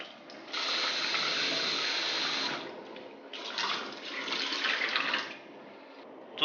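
Tap water runs steadily into a sink while pork fat and pork liver are rinsed with salt, two long bursts of splashing flow separated by a brief quieter pause, close and fairly loud.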